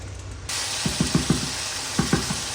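Cumin, chili, turmeric and coriander powders with salt fry in hot oil for a giant freshwater prawn curry. A steady, close hiss starts suddenly, with a series of short scraping stirs on top of it.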